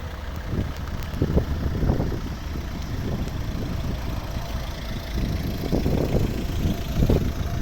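A Volvo S40 D3 five-cylinder diesel car engine idles steadily nearby with a low, rough rumble and faint wind noise, no voices present.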